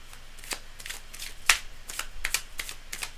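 Tarot cards being shuffled by hand, close up, with a series of crisp riffling and slapping bursts in an irregular rhythm over about three seconds, fairly quiet and with no talking.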